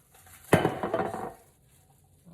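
A muffin pan is handled while being greased, giving a single sharp metallic clatter followed by about a second of rattling and scraping up close, then quiet.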